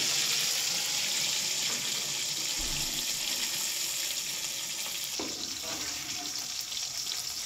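Fish frying in a pan, a steady broad hiss and sizzle that runs throughout, fairly quiet, with a few faint knocks partway through.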